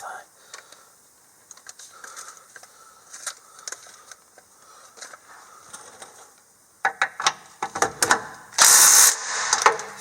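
Small Milwaukee power tool tightening Curt receiver hitch bolts on a Toyota FJ Cruiser, scattered ratcheting clicks and taps, then a short loud mechanical whirr near the end, with someone talking at times.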